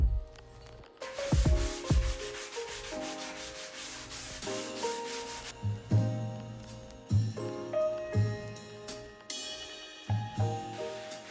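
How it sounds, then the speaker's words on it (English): Hand sanding on wood, a steady rubbing scrape repeating in strokes, close and fairly quiet, with no talking. "after sanding it down thoroughly"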